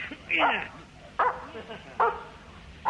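A dog barks three or four times in short, evenly spaced bursts, fairly close, with a brief spoken word among them in a comedy sketch.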